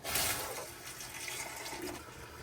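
Tap water pours steadily into the tank of an Ecoviva MATE4 countertop UV reverse osmosis water filter for a travel trailer, a continuous close rushing fill with no talk.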